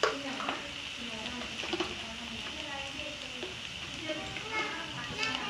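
Coriander seeds fry in a pan in a steady crackling sizzle, soft and continuous with small pops scattered across it, while a voice talks over it.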